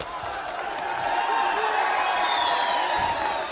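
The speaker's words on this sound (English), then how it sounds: "Big cheer from the crowd." A crowd roars at a WBL Asia Pacific title boxing fight, a loud sustained cheer with whoops and scattered clapping.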